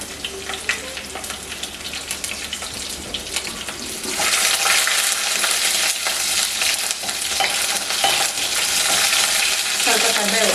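Chopped garlic and sliced green chillies hit hot oil and burst into a loud, steady sizzle with some stirring, following a quieter stretch of kitchen clatter.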